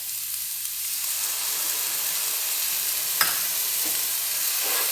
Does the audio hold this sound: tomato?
yes